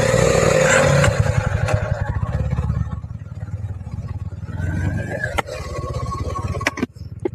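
A Honda H'ness CB350 motorcycle on a group ride, its engine a steady loud drone with clatter and wind buffeting, close to the microphone, with a voice talking over it early on.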